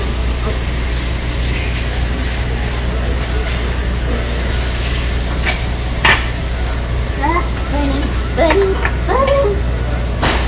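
Food stirred and sizzling in a hot pan, with fatty meat rendering, under a steady frying hiss with scraping stirs and a few utensil clinks, close by, with no one speaking.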